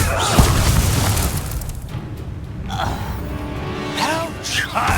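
A spell blast bursts from the Depulso charm in the Hogwarts Legacy video game, a loud booming pop near the start followed by rumbling magical whooshes and a brief gasping voice underneath.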